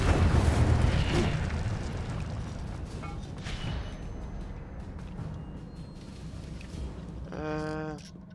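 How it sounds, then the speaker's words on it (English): An Incendio fire spell is cast in a video game, giving a loud, rushing burst that fades into a lower crackling rumble, with a few faint effect tones near the end. "Incendio."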